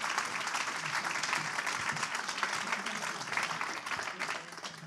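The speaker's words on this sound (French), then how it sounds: "Peut-être avec quelques applaudissements, si vous le souhaitez, de la part du public." An audience in a hall applauds during a municipal New Year ceremony, a dense, steady wash of clapping from many hands that continues throughout before easing slightly at the end.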